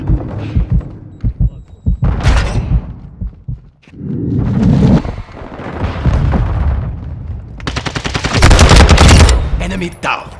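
Gunfire in Call of Duty: Modern Warfare II comes in loud, close automatic bursts and single shots, with explosions and rapid rattling volleys between shouted combat callouts.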